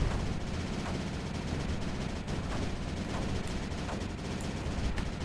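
Rapid gunfire in the space game Space Crew, a dense, sustained burst of booming shots and explosions that fills the whole stretch at steady loudness with no talk.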